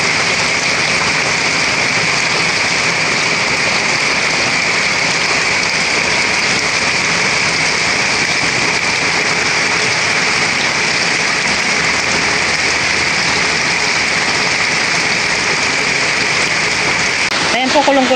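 Heavy rain pours down outdoors in a dense, unbroken hiss that fills the whole stretch, with a voice talking faintly beneath it.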